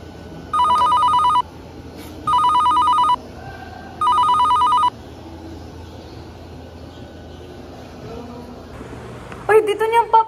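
A telephone rings during a call in a family skit, three regular electronic ring bursts with pauses between, followed by faint background noise and a brief voice near the end.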